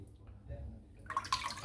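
Soaking water from a shaving soap tub, Noble Otter Barrbarr, poured out in a quick splashing trickle near the end, close and fairly loud after a low quiet start.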